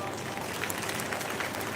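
Audience applause welcoming Shivraj Singh Chouhan at a national watershed programme event, a dense, even patter of clapping throughout under a speaking voice.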